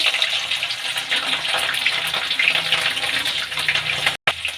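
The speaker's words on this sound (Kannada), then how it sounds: "ಈಗ ಎಣ್ಣೆ ಕಾಯ್ದಿದೆ. ಹಸಿಮೆಣಸಿನ್ಕಾಯಿ, ಬೆಳ್ಳುಳ್ಳಿ ಹಾಕ್ಕೊಳ್ಳೋಣ." Green chilies and garlic dropped into hot cooking oil for a mango pickle, a dense steady sizzle and crackle filling the whole stretch, close and loud, with a momentary gap near the end.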